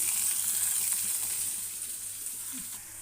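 Grated carrot, chopped coriander and curry leaves fry in a hot pan for savoury flattened-rice kudumulu, giving a steady, close sizzling hiss that eases slightly toward the end.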